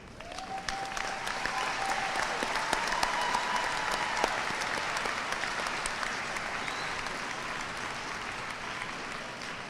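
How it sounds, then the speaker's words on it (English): A large audience at a high school commencement ceremony applauds faculty and staff with sustained, even clapping that fills a big space, holding steady for several seconds then gently tapering off. "Students and all our guests, please join me in a round of applause."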